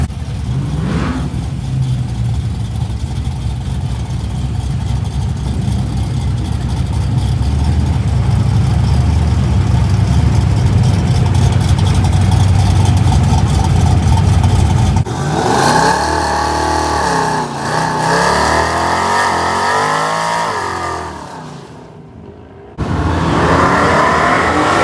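A Firebird car engine revs hard at close range, holding a loud steady drone that shifts into rising and falling throttle sweeps, with a brief dropout before it roars again.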